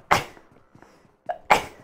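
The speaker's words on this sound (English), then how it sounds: "I'm sneezing." A person sneezes twice, close and sharp, with a short quiet gap and a small catch of breath between the two bursts.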